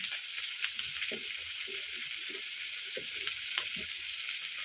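Spices with chopped tomato, salt and chilli powder sizzle and fry in a pan for a cabbage and prawn dish, a steady close hiss with soft stirring scrapes throughout.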